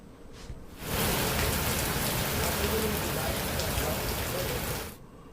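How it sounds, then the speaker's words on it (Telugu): Heavy evening rain pours down in Hyderabad, a close, loud, steady hiss of downpour that begins abruptly after a quiet moment and runs for about four seconds before cutting off. "ఇక ఉదయం నుంచి ఎండలు దంచి కొడుతుంటే సాయంత్రానికి జోరువాన కురుస్తోంది"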